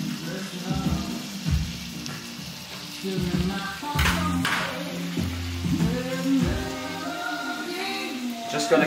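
A thick-cut bavette steak sears in a hot pan, a steady crackling sizzle with bursts of spattering pops, close and moderately loud, running throughout without talk.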